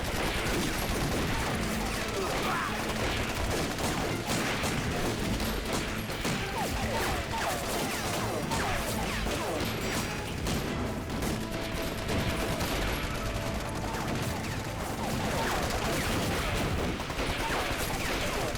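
Rapid continuous gunfire in a Vietnamese anti-Japanese war action film, a dense unbroken fusillade of shots and crackling bursts lasting the whole stretch, with shouted voices mixed in.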